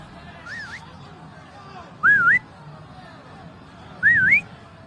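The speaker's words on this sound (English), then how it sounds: "I whistle really good." A person whistles three short rising-and-falling trills, evenly spaced about two seconds apart, close and clear over a quiet indoor background with low murmuring between them.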